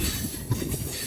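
A MEMU passenger train pulls out of a rural station, producing a continuous low rumble of wheels and carriage noise with a faint high hiss, heard from inside the train and without voices.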